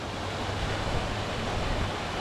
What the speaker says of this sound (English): I can't resist the sound of running water